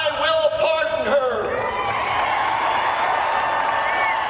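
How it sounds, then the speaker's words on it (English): A political rally crowd cheers, whoops and claps in a loud, sustained roar that swells after a brief burst of voices and holds steady to the end. "You get a lot of crowd cheering right there"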